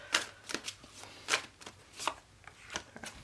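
Tarot cards are shuffled and pulled, giving a series of crisp, close card slaps and flicks at an irregular rhythm, quiet, with no talking.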